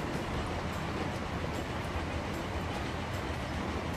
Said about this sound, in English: let's continue following this train along